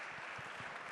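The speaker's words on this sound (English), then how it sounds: "Please applaud him" Audience applause at the official presentation of the 1000 Miglia 2022 race, a dense steady patter of clapping filling the short moment without talk.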